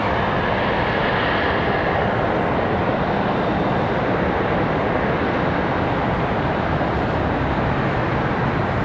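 An Amazon Boeing 767 arriving from Cincinnati at Charlotte Douglas passes with a continuous, even jet roar, moderately loud and unbroken, with no talking.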